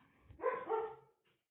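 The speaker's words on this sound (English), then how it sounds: "And there go the dogs again." A short burst of two or three barks from dogs, somewhat distant and moderately loud, then quiet.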